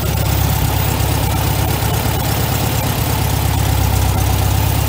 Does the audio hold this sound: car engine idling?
yes